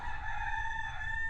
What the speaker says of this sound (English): you'll hear the rooster in the background